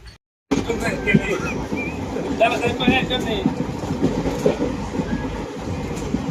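Inside a moving passenger train travelling from Pondicherry to Kachiguda: a continuous rumbling roll with rhythmic clickety-clack of wheels over rail joints and faint squeals, steady and fairly close, with voices talking over it.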